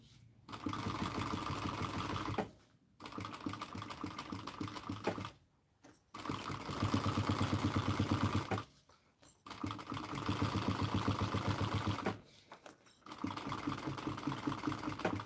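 A sewing machine stitches along zipper tape in a sewing room, running in four fast, rattling bursts of a few seconds each, separated by brief pauses, close and steady, with no talk.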